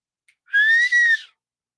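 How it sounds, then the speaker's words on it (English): A single short blast of a whistle at football practice, clear and shrill with a tiny dip in the middle, alone in silence. "Blow the whistle."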